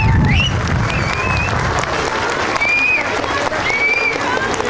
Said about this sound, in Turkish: o zaman onları şöyle hep birlikte güçlü bir biçimde alkışlayalım diyorum